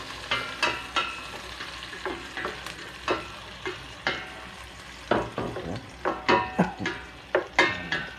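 Onions frying in a pan for Filipino chicken adobo, a close sizzle punctuated by repeated stirring scrapes and clacks in an uneven rhythm, heard alone without talk.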